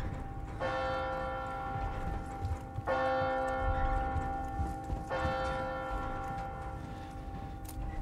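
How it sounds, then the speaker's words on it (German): Three slow, evenly spaced tolls of a church bell in Resident Evil 4 Remake, each ringing and decaying into the next, fairly loud over a low rumbling background. "Ding dong!"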